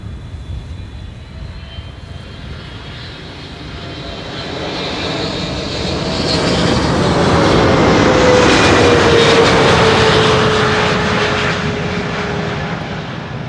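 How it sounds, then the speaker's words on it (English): A 17-year-old KLM wide-body airliner lands at Schiphol on runway 06, its loud roaring engine noise swelling as it passes close by, with a descending whine from the engines, then holding steady and broad. "Typical KLM landing though."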